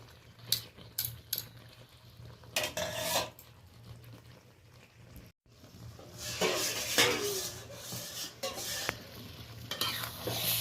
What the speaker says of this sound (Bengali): মশলার সাথে পটল, আলু, মাছের মাথা আরও 2-3বার হালকা হাতে আমি নেড়ে নিয়েছি।